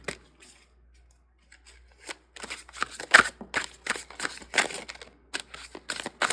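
A large combined pile of tarot cards from many decks is shuffled by hand, giving quiet opening rustles followed by a run of crisp, close riffling and snapping card sounds with no voice.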